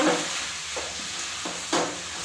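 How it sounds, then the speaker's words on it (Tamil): Banana flower and chopped vegetables sauté in hot oil in a pan, a close, steady sizzle with a few sharper surges as the pieces are stirred and turned, no voices over it. "இப்போ நல்லா வதக்கிக்கலாம் எண்ணெயிலேயே"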